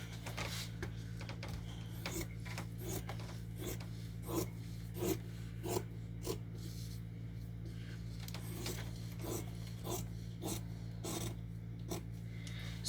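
Scissors snip through a paper pattern in quick repeated cuts, faint crisp rasps spaced irregularly over a low steady background hum, with no talking.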